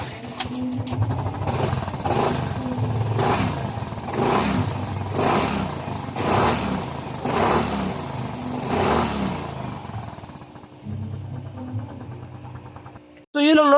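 A Yamaha Mio i 125 scooter engine with a vibrating, shaky fault is revved repeatedly in about eight even bursts over a low idle, close and moderately loud, then idles briefly before a sharp sound at the end.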